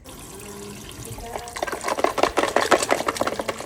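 Dried salted fish being rinsed under a running tap, water splashing and trickling steadily over it with rising, choppy bursts of handling in the second half.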